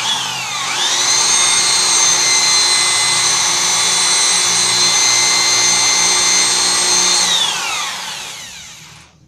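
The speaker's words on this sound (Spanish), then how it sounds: "vas a perforar de la manera más perpendicular posible hasta el tope que marcaste con tu tirro de papel" A power drill bores into a melamine board, a steady high whining spin that winds up, holds nearly constant for about seven seconds, then spins down to silence; no one talks.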